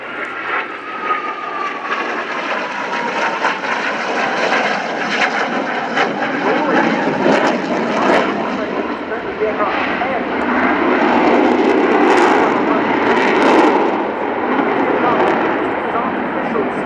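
A military jet roars loudly overhead at the RIAT 2017 airshow at Fairford, a sustained broadband engine rush that swells toward the end, with a commentator talking over the public address throughout.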